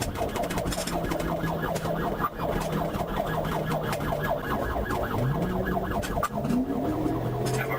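A police siren wails and yelps in rising and falling sweeps, mixed with road and engine noise from a moving vehicle during a high-speed chase on a crowded road.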